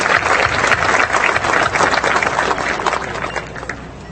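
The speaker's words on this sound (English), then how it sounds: "Let's have a hand of applause for these fine faculty members." Steady, dense applause from a large audience for faculty members at a 2014 university commencement ceremony, continuous clapping filling the room at an even level and fading only slightly toward the end.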